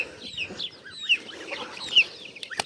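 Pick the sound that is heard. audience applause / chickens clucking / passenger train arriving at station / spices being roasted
chickens clucking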